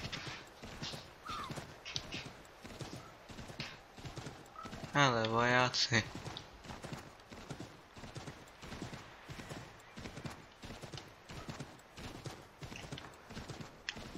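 Horse hooves clip-clop at a steady galloping rhythm in Assassin's Creed 3, continuous and moderately close, with a brief whinny partway through and someone talking over it.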